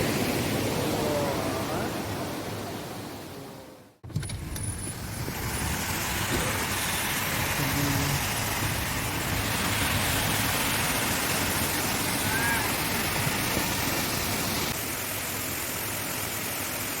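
Roadside waterfall in the highlands of Tana Toraja, heard as a continuous broad rushing roar of falling water, loud and steady, with a brief dip partway through.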